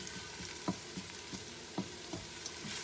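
Onions caramelizing in hot oil in an Instant Pot, a soft continuous sizzle close by with occasional light taps and scrapes of a spoon against the pot.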